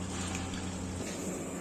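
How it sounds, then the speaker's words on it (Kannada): Water gushing steadily through the pipe of a diesel boiler as it fills, a continuous close rushing hiss with a low hum underneath, no voices. "ಈಗ ನೋಡೋದಿರಲ್ಲ, ಈಗ ನೀರು ಬರ್ತಾ ಇರೋದು."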